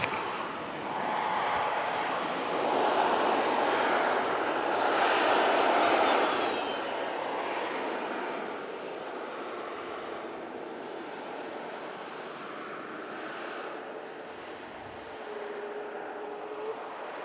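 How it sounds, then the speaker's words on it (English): A Pegasus Airbus A320neo airliner touches down, its distant jet roar swelling over several seconds and then easing into a steady, fainter rumble, with no one talking. "Pegasus A320 Neo just touching down there as well."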